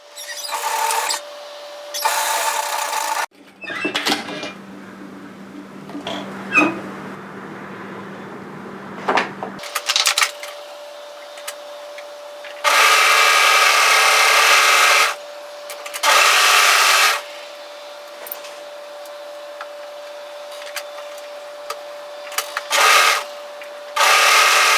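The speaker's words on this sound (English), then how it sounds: "go to your overlocker and tidy that edge" A serger overlocker runs close by, tidying a fabric edge on a varsity-style bomber jacket, in loud bursts several seconds long with short pauses in between over a steady background hum.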